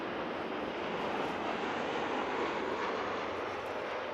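A Qantas airliner arriving from Melbourne lands at Christchurch, its engines making a steady, distant broadband roar that stays even throughout.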